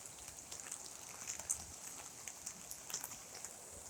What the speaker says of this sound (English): And you can see it's still raining hard, but the sun is out.